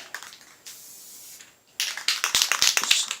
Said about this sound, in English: you just want to give it a light spray